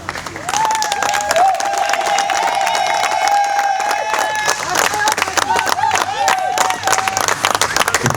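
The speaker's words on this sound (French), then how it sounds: "on applaudit pour eux" Wedding guests at a civil ceremony applaud the parents, a sustained crowd clap with some cheering, while a voice runs through it and a long, high, wavering ululation-like call carries over the clapping.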